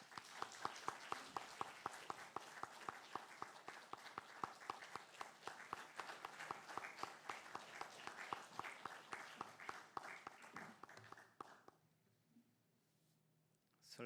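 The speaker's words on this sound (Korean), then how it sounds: "우리 선교사님 나오셔서 말씀 증거하실 때 우리 뜨겁게 박수로 환영하도록 하겠습니다" A church congregation claps warmly to welcome a missionary to the pulpit for a Sunday sermon. The applause is brisk and rhythmic, fairly close and continuous, ending abruptly near the close with quiet afterward.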